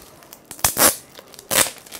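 Paper wrapping on a gift hamper torn open by hand in two quick, loud ripping bursts with a soft crinkle between them, close to the listener, with no talk.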